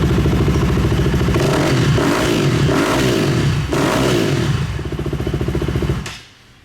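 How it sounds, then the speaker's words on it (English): A Yamaha YZ450F dirt bike with low fuel pressure revs loud and close as the throttle is worked, its engine note rising and falling in surges before it drops away at the end. "See what it does when I throttle it."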